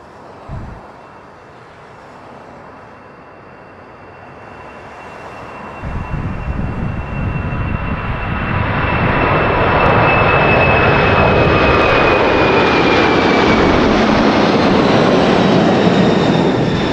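An airliner takes off at Toronto airport: its jet engines build from a low, distant hum into a loud, sustained roar as the plane accelerates, with a high whine running through it.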